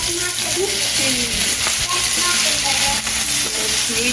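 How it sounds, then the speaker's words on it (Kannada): Marinated soya chunks shallow frying over a medium flame: a loud, dense, unbroken sizzle with occasional stirring, heard close up. "ಸೊ ಮ್ಯಾರಿನೇಟ್ ಮಾಡಿರೋವಂಥ ಸೋಯಾ ಚಂಕ್ಸ್ ಇವಾಗ ಶಾಲೋ ಫ್ರೈ ಆಗ್ತಾ ಇದೆ."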